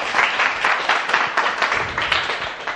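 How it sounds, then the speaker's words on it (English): An audience at a live comedy talk event gives a speaker a round of applause, dense, fairly close clapping that swells in waves and fades slightly toward the end. "Big round of applause for Chris O'Neill."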